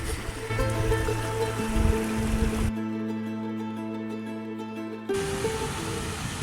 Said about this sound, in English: What's that little stream, Joe?